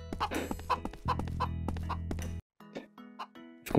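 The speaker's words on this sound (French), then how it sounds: "J'entends une poule là." A hen in the VR game Viva Project clucks in quick uneven bursts close by, layered over a low game hum that cuts out briefly near the end.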